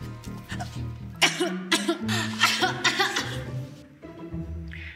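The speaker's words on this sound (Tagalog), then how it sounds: "umubo lang kayo kung naririnig niyo ko" A series of harsh coughs, several in quick succession, close and fairly loud, followed by quieter throat noises.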